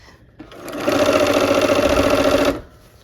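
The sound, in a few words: sewing machine sewing a quilt top seam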